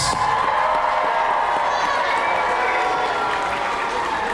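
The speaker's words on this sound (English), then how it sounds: "Raise a cheer for the Black and White Knight and Thomas." A large arena crowd at a Medieval Times dinner and tournament show in Dallas cheers and claps for the knights, a loud continuous roar of applause and shouting that holds steady throughout.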